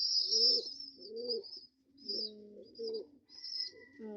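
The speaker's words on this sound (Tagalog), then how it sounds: "Ang ganda magsubo mga kalapatids." Pigeons coo close by in a quiet spot, giving a run of soft, low, rounded calls in short bursts with brief pauses between them.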